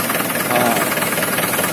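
2008 Mahindra 575 tractor engine idling, a loud steady diesel rumble with a faint knocking beat, heard up close and continuous throughout.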